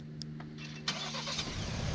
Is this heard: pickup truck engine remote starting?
yes